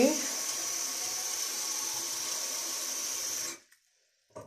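A continuous stream of water pours and splashes steadily onto flowers for a few seconds, then stops abruptly, followed by a short faint sound.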